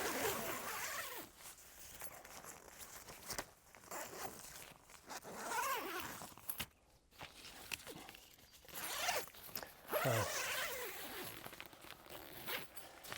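Zipper on the door of a Hilleberg Nammatj 3 GT tent being drawn open and closed in several quick, rasping pulls, close up and fairly quiet, with soft fabric rustling between strokes.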